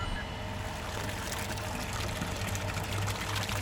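A cartoon concrete mixer truck pours concrete in a continuous, thick sloshing flow with a low rumbling undertone, steady and close for the whole stretch.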